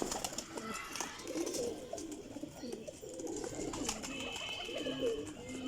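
Lakha pigeons, males and females kept in a loft, cooing softly and repeatedly in low murmuring calls, close by, with faint background noise and no talk.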